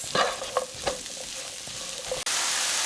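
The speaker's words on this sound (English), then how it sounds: "we're gonna add in 1 package of some sliced white mushrooms, and we're just gonna go ahead and get these nice and tender for a few minutes" Sliced white mushrooms sizzle steadily in a hot pan, with a few sharp clattering stirs near the start and a brief cut before the frying hiss resumes louder.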